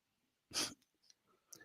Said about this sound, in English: Pardon me, I'm going to sneeze again.